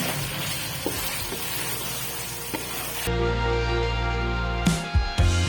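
Chicken white karahi with black pepper and salt stirred and mixed in a pan, a steady sizzle with scraping strokes, then low music comes in partway through.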